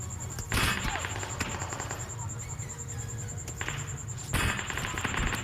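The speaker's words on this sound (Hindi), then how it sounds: "देन मुझे फायर की आवाज़ सुनाई देती है" Gunfire in the PUBG Mobile video game: two short, sharp bursts of shots, one near the start and one near the end, over a quieter game background with some talk.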